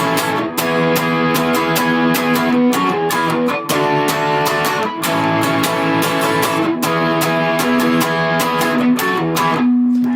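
Distorted electric guitar plays the chorus of a song, dense power-chord strumming with a full band-like backing, loud and steady throughout with brief dips between phrases.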